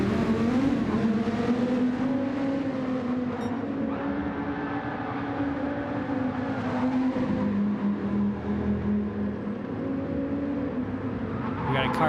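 Race cars circle Laguna Seca in a video game, one car having spun out on track, a steady loud engine drone holding throughout with shifting pitch, under commentary talk.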